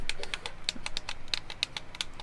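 Plastic buttons on a DeAgostini R2-D2 model's remote control click in a quick irregular series of sharp, close taps.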